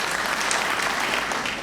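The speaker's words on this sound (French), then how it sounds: "C'est extraordinaire et ça mérite des applaudissements." Audience applause at an official ceremony, a dense, steady wash of many hands clapping that holds loud and even for the whole stretch with no voices over it.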